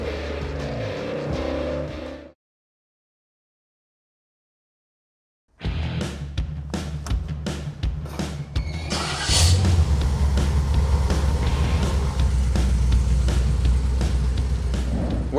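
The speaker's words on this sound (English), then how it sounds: "we hit the pavement and put our Autocross Camaro to the test" A Chevrolet Camaro autocross car runs on the track at NCM Motorsports Park. The loud engine drone cuts out into a few seconds of silence, then returns with clicks and a rising roar as the car accelerates.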